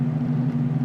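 A car engine hums in the 1976 Death Race arcade video game, a steady low electronic drone holding for under a second with nothing else over it.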